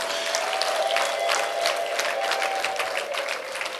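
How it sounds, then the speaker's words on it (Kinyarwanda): A church congregation gives lively, sustained applause, with a thin, high, drawn-out tone running through it that may be ululation; the applause eases slightly toward the end. "mwongere mu mukomera amashyi mu muvugirize impundu"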